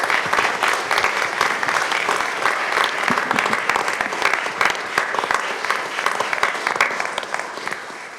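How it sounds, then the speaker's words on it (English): Audience applause for a group of young women at a city council meeting, loud continuous clapping from a crowd in a hall, steady and dense throughout. "Let's have another big round of applause for these young ladies."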